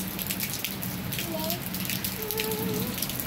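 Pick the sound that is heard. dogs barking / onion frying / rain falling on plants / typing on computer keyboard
rain falling on plants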